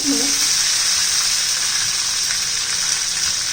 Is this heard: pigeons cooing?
no